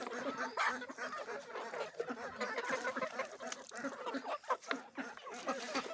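Chickens and ducks at a poultry farm pecking and eating homemade grain feed, with busy clucks, quacks and honks rising over a steady close scratching, gobbling clatter and a voice heard faintly.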